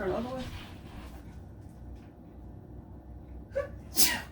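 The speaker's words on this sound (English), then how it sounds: "I have to sneeze, y'all." A single sharp sneeze bursts out near the end, preceded by a quick intake of breath, close to the microphone with quiet room noise before it.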